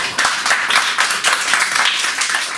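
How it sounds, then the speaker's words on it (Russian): Loud, close applause from an audience at a ninth-grade graduation ceremony as the graduates enter the hall, many hands clapping in a dense, steady, continuous patter without any talk. "Ваши аплодисменты."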